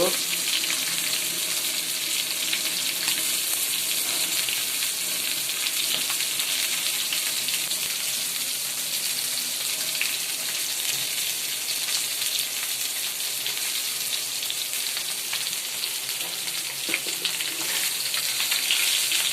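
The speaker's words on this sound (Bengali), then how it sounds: "বন্ধুরা মুরগির মাংস তেলে ভাজা হচ্ছে" Chicken meat frying in oil in a home kitchen, a steady loud sizzle that holds for the whole stretch with no talk over it.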